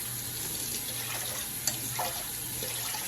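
Quinoa is rinsed under a running kitchen tap, a steady stream of splashing water close by with faint clinks, no voices.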